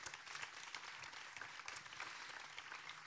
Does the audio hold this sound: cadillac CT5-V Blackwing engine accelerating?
no